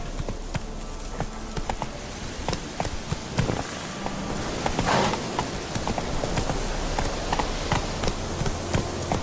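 Horse hooves clip-clop steadily in The Witcher 3, a rhythmic stream of close, crisp hoofbeats over a busy ambient game soundscape with faint insect-like buzzing.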